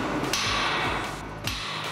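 A hammer strikes the bolts and nuts on the square corners of a tower crane mast during dismantling high above the ground, two sharp metallic blows about a second apart over constant background noise.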